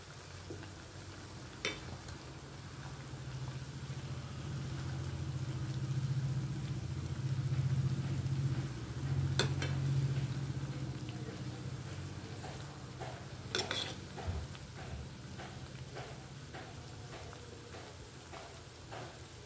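Pieces of moong dal aluvadi fry in a little oil with a soft, steady sizzle, a low hum running underneath and a few sharp clinks or taps standing out now and then.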